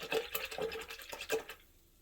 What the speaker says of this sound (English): And then I'm going to rinse my brush